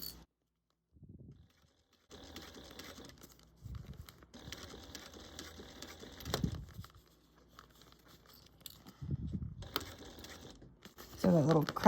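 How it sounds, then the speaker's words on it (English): A zipper cracks against the presser foot of a sewing machine while a Hello Kitty bag is stitched, short crackling clicks between bursts of machine running, close and moderately loud. "that little cracking noise is my zipper hitting right up against that"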